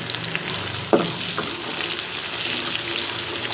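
A spoonful of chopped onion frying in hot oil in a home kitchen pan: a steady, close hiss of sizzling with one sharp crackle as the onion lands, then an even sizzle with no talking.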